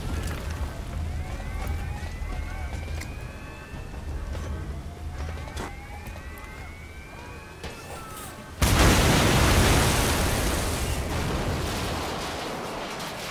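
A grenade blast in Metal Gear Solid V: Phantom Pain erupts suddenly and loudly partway through, a heavy boom that rolls into a long, noisy decay after a stretch of quieter game sounds.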